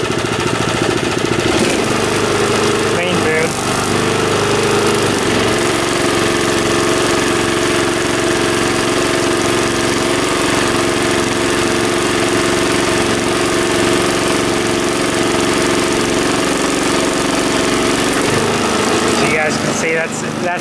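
A Niftylift TM34T man lift's engine runs with the throttle raised, giving a loud, constant mechanical drone that holds steady without a break for about twenty seconds.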